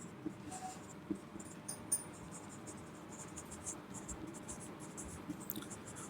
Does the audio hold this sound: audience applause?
no